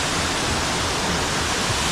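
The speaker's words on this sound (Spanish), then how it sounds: "Y finalmente hemos llegado de nuevo aquí a la cascada La Romana." Steady, loud broadband roar of the La Romana waterfall in Barinitas, Venezuela, a dense continuous rush of falling water with no voices over it.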